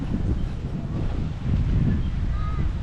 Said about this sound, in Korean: 생각보다 바람이 많이 붑니다.